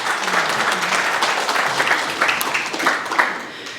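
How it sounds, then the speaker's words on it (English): Warm, lively applause from an audience at a Miss Samoa NSW pageant interview event, dense clapping filling the room with a few sharper individual claps near the end, loud and sustained with no speech. "Give a round of applause, ladies and gentlemen."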